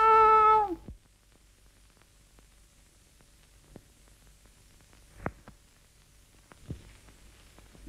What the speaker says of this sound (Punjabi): ਬਿੱਲੀ ਆ ਗਈ ਮੈਂ ਕੱਢ ਆਵਾਂ